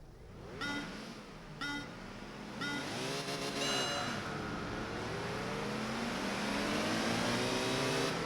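A Honda Beat's engine races in the PlayStation 2 game Enthusia Professional Racing. A few short revs lead into a sustained climbing engine note that rises in pitch through gear changes, steady and up close.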